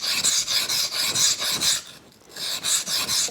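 A knife blade is stroked repeatedly on a sharpening stone to push the burr, giving rhythmic rasping scrapes about twice per second, close and clear, with one short pause midway and no talking.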